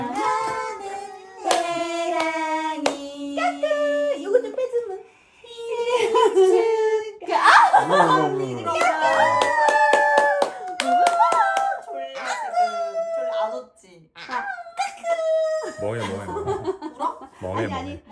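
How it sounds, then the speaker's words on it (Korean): Hands clap along while family members sing a celebratory song for a baby's 200th day, the claps mixed under cheerful singing, laughter and chatter at close range. "박수 치면서 노래"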